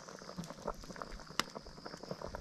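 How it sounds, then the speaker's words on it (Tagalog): Sinigang soup bubbling at a steady boil in a pot, a dense close-up stream of small pops and gurgles with no talking. "Kumukulo na siya."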